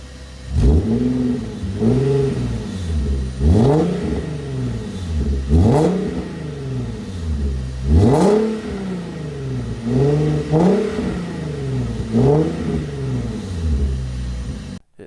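An Infiniti Q50 exhaust with worn-in mufflers revs up about nine times in steady succession, each deep, loud rise and fall close by, with no talking.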